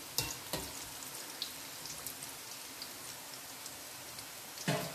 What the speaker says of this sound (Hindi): ये ऐसे आराम से फ्राई होती रहेगी